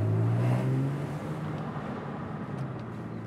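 Porsche 911 Carrera S 997.1 with its sports exhaust engaged, a deep engine drone heard from inside while driving, louder at first and then settling into a steady rumble with road noise.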